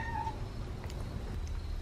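A house cat cries to be let upstairs into the kitchen, giving a short, faint meow early on and a few soft, high vocal bits later, over a low rumbling background in a quiet home.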